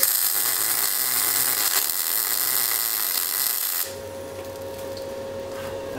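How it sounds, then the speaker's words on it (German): A Stahlwerk MIG MAG 200 welder running a continuous arc on thick sheet metal gives a loud, steady crackling hiss that suddenly drops to a quieter hum near the end, recorded close with no talking. "Ich bin das nicht gewohnt, so dickes Blech zu schweißen."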